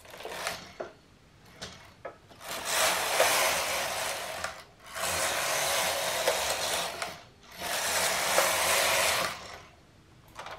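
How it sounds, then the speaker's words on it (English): A knitting machine carriage works a dress piece, making three long whirring, clattering passes across the needle bed, each separated by a short pause with small clicks, close and steady. "Then I'm going to start knitting the back piece of the top from these live stitches."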